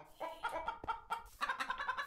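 Chickens in the Minecraft video game cluck in a quick series of short, soft, close calls with no talk over them.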